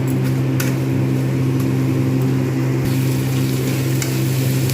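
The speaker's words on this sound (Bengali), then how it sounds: "পেঁয়াজ একসঙ্গে ভাজা হবে" Onions fry in a modest amount of oil in a pan, a steady continuous sizzle with a low constant hum underneath and occasional small clinks, no voices.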